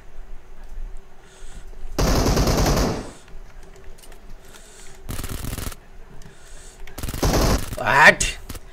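Bursts of rapid gunfire from an M416 rifle in BGMI crackle in short volleys with gaps between them, and a sharp electronic zap near the end.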